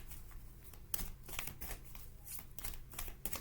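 Playing cards are shuffled close up, with repeated quick papery riffles and flicks in an uneven rhythm, fairly quiet.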